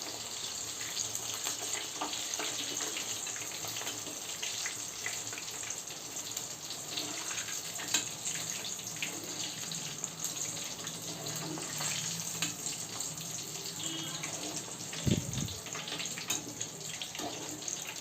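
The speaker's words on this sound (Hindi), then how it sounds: "ऐसे इस तरह से चलाते हुए हल्का गोल्डन ब्राउन होने तक फ्राई करना है।" Nimki dough pieces deep-frying in hot oil while being stirred, a steady crackling sizzle with a continuous watery hiss throughout and one brief louder clatter near the end.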